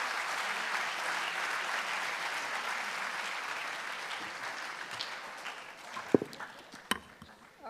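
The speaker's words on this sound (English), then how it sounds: "I would like to request you to join me in giving applause to all the panelists" An audience at a conference on Gulf energy security applauds the panelists, steady clapping that gradually thins and fades, ending in a few isolated claps and small knocks.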